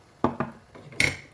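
Milk being stirred in a metal pot: a few sharp clinks of a utensil against the pot, close and brief, ending in a brighter ringing knock.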